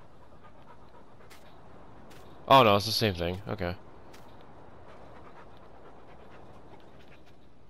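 A dog in Farming Simulator 19 pants in a continuous breathy rhythm beneath a man's brief speech in the middle.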